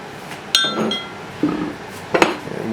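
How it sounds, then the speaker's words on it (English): Butter and sugar are mixed in a bowl with a few distinct clinks of utensil against the bowl, scattered over a couple of seconds with soft scraping between them, close and fairly quiet. "And we're going to mix this up until it's sort of fluffy."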